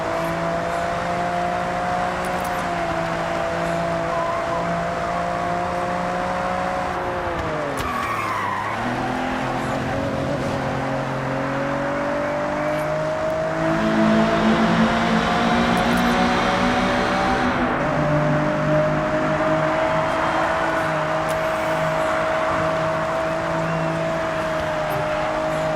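A Nissan R32 GT-R in a racing video game lifts off the throttle, the engine note falling and rising again while tyres squeal through a corner, loud and continuous, with a burst of skidding hiss partway through.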